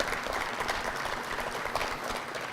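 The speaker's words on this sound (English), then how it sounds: "So let's give them a round of applause." An audience at an NFL Draft community outreach breakfast applauds in a steady, full round of clapping, close and loud throughout.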